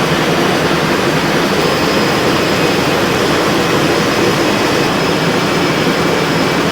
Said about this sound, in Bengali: এই হচ্ছে ইঞ্জিন রুম এই ইঞ্জিন দ্বারা এই দশ চাকার লঞ্চটি সামনের দিকে এগিয়ে যাচ্ছে